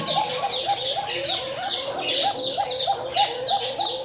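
Pigeons coo loudly and close up in a fast, repeating rhythm of short rolling calls, with a few sharper chirps mixed in.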